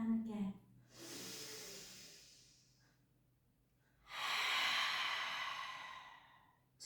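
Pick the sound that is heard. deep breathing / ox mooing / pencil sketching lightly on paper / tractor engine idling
deep breathing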